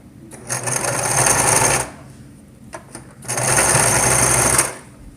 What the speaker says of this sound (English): push the needle down. Once you start a few stitches, you press the reverse lever and go back over those stitches.